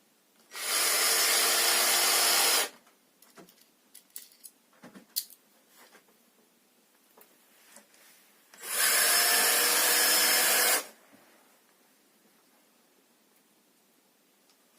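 A cordless screwdriver drives screws into wooden ceiling lining boards in a frame house, in two loud sustained whirring runs of about two seconds each, with quieter handling clicks and knocks between them.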